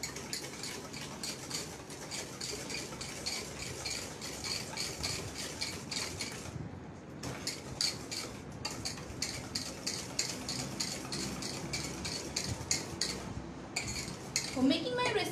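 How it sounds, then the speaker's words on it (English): A whisk beats sugar in a bowl, giving a steady, rapid metallic clatter against the bowl's sides for the whole stretch, loud and close, with a brief lull midway. "Whisk it nicely until the sugar is dissolved."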